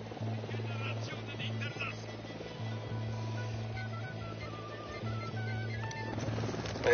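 A helicopter in the video game Ghost Recon Wildlands flies overhead with a steady, droning rotor thrum that persists throughout, while voices talk over it.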